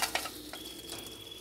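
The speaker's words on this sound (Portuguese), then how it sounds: "Já tá fervendo aqui, eu vou apagar." Water boiling in a pot on a stove for pickled vegetables gives off a quiet, steady hiss and bubbling, with a few faint clicks near the start.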